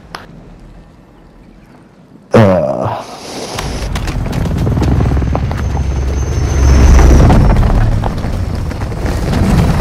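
A grenade explodes in Call of Duty: Modern Warfare II. A sudden loud blast cuts through near quiet and is followed by a sustained, rushing rumble.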